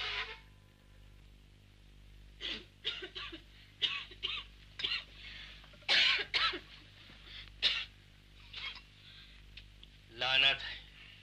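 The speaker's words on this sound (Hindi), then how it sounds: "खांस के ही उठाओ भी या कोई और तरीका भी है उठाने का?" A man coughs repeatedly in short bursts to wake someone in a 1961 Hindi film scene, with irregular harsh coughs over a low hum and brief voiced sounds between them.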